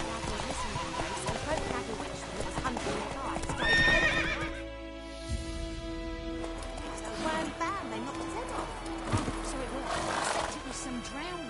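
Roach, the horse in The Witcher 3 video game, trots with steady clip-clopping hooves and lets out a neigh, heard close up under a voice and game music.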